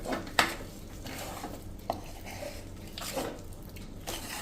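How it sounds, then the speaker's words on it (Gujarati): Muthiya dough mixed in a pan with a spoon: soft squishy stirring and scraping with a few sharp clinks of metal on the pan, close and moderately quiet. "અને આ રીતે આપણે બધું જ મિક્સ કરી લેશું."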